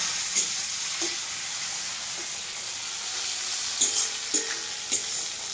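Onion and tomato frying in a pan, a constant close hiss and sizzle with a few sharp spatters and light stirring clicks, no voices.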